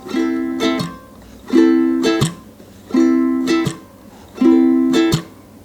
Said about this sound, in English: Now when you play this pattern in full swing, it should sound like this.